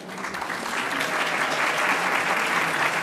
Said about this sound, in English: I'd like to thank our wonderful, esteemed panel with a round of applause.